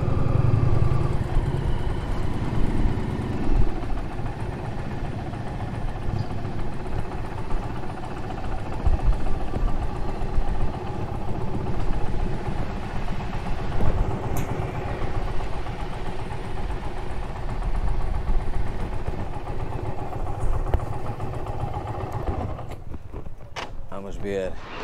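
A motorcycle engine idles with a steady low rumble for a long stretch, with faint mechanical creaks and a voice briefly heard.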